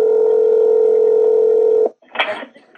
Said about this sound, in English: Did your phone just ring? It did.